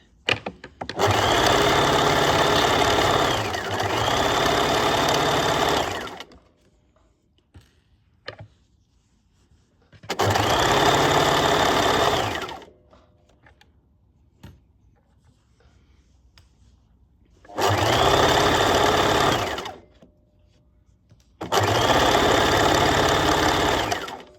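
An overlocker stitches the sleeve and side seams of a hoodie in three long bursts of steady, loud whirring, separated by quiet pauses while the fabric is repositioned.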